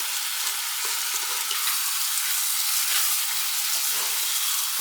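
Soaked rice stir-fried in a pot, giving a dense, even hiss of frying with faint, soft scraping strokes underneath and no voices.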